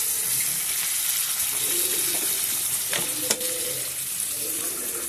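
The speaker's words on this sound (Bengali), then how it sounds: "দিয়ে একটু ভালো করে কষিয়ে নিতে হবে, যতক্ষণ না মশলার থেকে তেল ছেড়ে আসে" Spices with yogurt sautéed in a pan for doi katla, cooked until the oil separates: a close, steady hiss of frying with a few brief clinks and stirring scrapes partway through.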